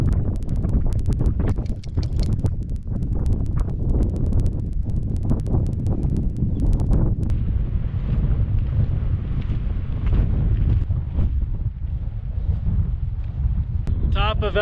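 Gusty wind buffets the microphone atop Elkhead Pass, a high Colorado mountain pass, a steady loud roar with rough low rumble throughout, growing broader and hissier in the second half.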